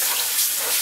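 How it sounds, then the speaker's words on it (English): Liquid poured into a pan and stirred while cooking crockpot smothered pork chops, a steady close wash of pouring and faint sizzle-like hiss throughout the short moment. "So I'll pour while you stir."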